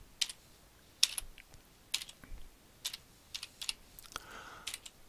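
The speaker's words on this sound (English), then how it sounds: "I'll type it in." Typing on a computer keyboard: scattered, close key clicks in short irregular bursts, quiet and with no talking over them.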